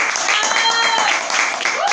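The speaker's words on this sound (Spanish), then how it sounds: "un aplauso, ya hay 100 suscriptores" A short, dense burst of group applause marks a channel milestone of 100 subscribers, with voices mixed into the clapping throughout.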